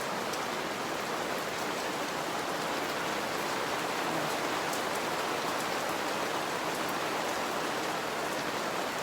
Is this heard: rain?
yes